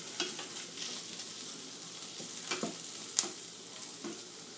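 Carrots and ginger frying in a pan, a soft continuous sizzle with a few spoon scrapes and one sharp metallic clink, quiet and close with no talking.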